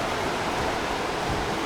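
Rushing water of the South Fork of the Smith River near Craigs Beach, a steady, dense broadband roar with no pauses and no voices.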